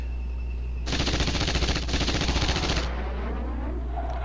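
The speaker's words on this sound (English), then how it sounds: "The Apaches fire again and destroy another tank." Apache attack helicopters fire their guns during combat in a military video game, giving a loud, rapid two-second burst of automatic gunfire with a short break in the middle, then fading to a low rumble.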